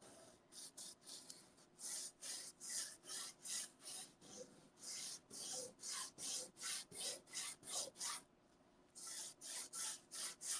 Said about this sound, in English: we want to smush the glitter into the napkin